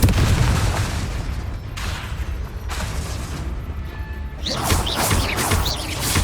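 Confringo fire spell exploding in Hogwarts Legacy during a combat sequence, dense crashing blasts and rumbling booms with a sharp burst of crackling debris near the end.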